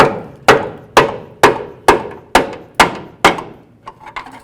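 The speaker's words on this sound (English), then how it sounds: "give this a couple loving bonks, and hopefully it comes free" A long bar is hammered against the steering shaft of a 2007-17 Ford Expedition to knock it off the power steering rack: seven loud, evenly spaced metallic blows ring out close by, then a few lighter taps.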